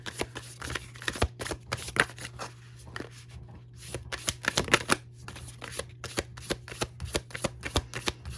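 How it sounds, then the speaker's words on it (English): Tarot cards are handled and drawn from a deck close by: a steady run of soft, crisp flicks and riffles, some bunched together and others spaced out, with no voices. "So let's get 4 cards for you, Taurus."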